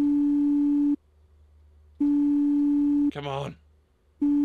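A phone ringback tone in the horror game Bighead sounds as steady one-second beeps separated by silences, with a voice speaking briefly during one gap.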